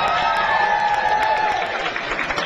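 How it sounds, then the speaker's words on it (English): Women in a wedding party crowd cheer together in a loud, steady wash of shouts and whoops that holds for the whole stretch. "Let's have a big cheer from all the ladies."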